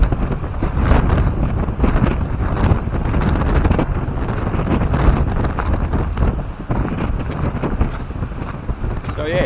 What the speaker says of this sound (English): it's quite a strong wind